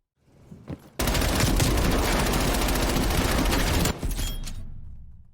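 Video game gunfire: a dense, loud burst of rapid automatic shots running continuously for about three seconds, then cutting off into a fading tail, with no speech.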